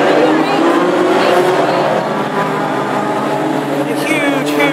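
Classic hot rod race cars circling the oval at Hednesford, engines roaring and droning continuously under a commentator's voice.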